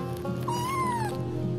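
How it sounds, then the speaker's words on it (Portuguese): A pet cat meows once, a rising then falling cry lasting about half a second, close and clear in a home over a steady low hum, with no talk. "Aonde o gato está? Miando no meu ouvido."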